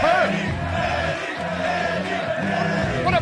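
A large crowd at a fighting match roars and shouts throughout, a dense, continuous wall of cheering and bellowing voices with occasional louder whoops rising above it.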